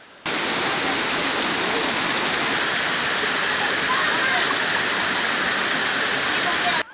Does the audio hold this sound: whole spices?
no